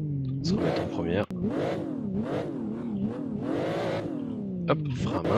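A BMW M3 E36 drifting on a Japanese course, its engine revving up and down in repeated surges with rising and falling pitch, loud and close, a sharp clack near the start.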